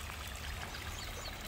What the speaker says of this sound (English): Still love the pondless waterfall.